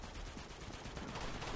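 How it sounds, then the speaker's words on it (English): Dense, rapid gunfire from a video game, overlapping bursts crackling continuously like machine guns and a firefight, steady and fairly quiet with no voices. "I got gunshots everywhere."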